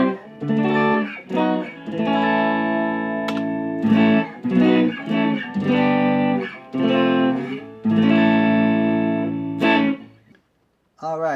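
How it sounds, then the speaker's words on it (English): A Harley Benton TE-40 electric guitar played through reverb and delay, loud and close, with chords and single notes in phrases whose echoing tails ring out between strums before a brief silence at the end. "let's add my reverb and delay, and it gives it a little bit more of a liveliness."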